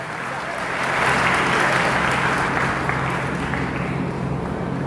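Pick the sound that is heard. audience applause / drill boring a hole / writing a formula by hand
audience applause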